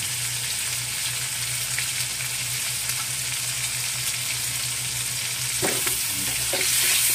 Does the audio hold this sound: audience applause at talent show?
no